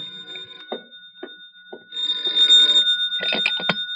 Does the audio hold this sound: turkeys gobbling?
no